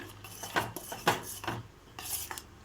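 Jaggery goes into a pot for homemade junnu and gets stirred, giving a few brief scraping and rubbing strokes of a utensil against the pot, close and fairly quiet, with no voices.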